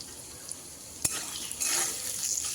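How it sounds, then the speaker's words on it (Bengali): Spiced vegetable mixture being sautéed in a pan, seasoned with chilli powder, salt and turmeric, gives a low steady sizzle and stir close by, with one sharp utensil knock near the middle and scraping that grows louder near the end. "সব কিছু দেওয়ার পর আবারও আমি 2 মিনিটের মতো কষিয়ে নেব।"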